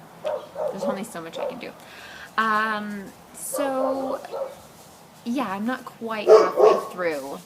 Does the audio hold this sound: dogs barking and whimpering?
yes